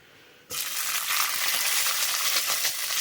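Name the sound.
onion added to hot oil, frying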